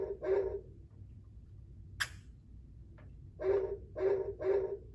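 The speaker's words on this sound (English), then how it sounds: "I think that's a dog." A dog barks in a quiet indoor setting, one short bark followed by a tight cluster of three more near the end, fairly close and distinct against a faint low background hum.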